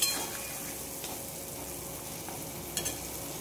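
Pointed gourd stir-fried with meat in a pan, giving a steady low sizzle broken by a few soft scrapes and knocks of the spatula, close by.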